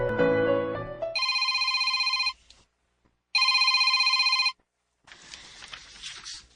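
A telephone rings in two long, loud bursts separated by a short silence, each a bright steady electronic trill, followed by a softer rustling noise.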